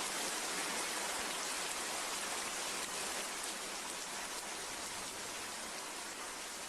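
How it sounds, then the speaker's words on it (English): Steady heavy rain falling indoors-audible, a dense continuous hiss of drops on surfaces that eases only slightly over several seconds, with no voices. "Now you're hearing the rain slowly subsiding,"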